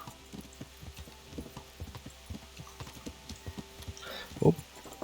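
Horse hooves clip-clop at a steady walking pace in the medieval video game Kingdom Come: Deliverance, with soft, evenly spaced thuds and a brief louder rustle near the end.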